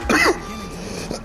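A single throaty cough or throat clear from a character in the video game The Surge 2, sharp and close, followed by a quiet pause and a faint second catch in the throat.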